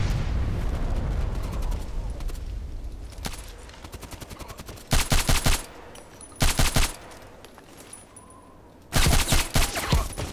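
Rapid bursts of gunfire in a shooter video game, several sharp automatic volleys spaced a few seconds apart with quieter background rumble between, loud and close.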